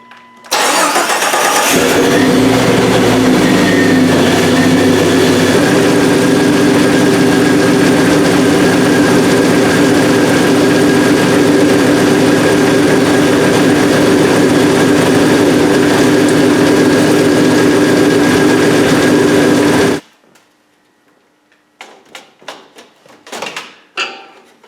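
A Jeep Cherokee engine cranks and catches, then settles into a loud, steady idle with a constant hum that runs about twenty seconds before cutting off abruptly, leaving faint scattered clicks and handling noises.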